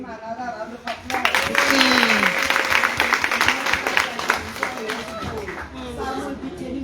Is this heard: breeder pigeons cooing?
no